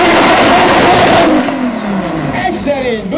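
A car doing a burnout at a drag event, a 3-litre V6 biturbo build, roars loudly with a dense, broadband engine wail that falls in pitch as it settles, with voices talking over the noise.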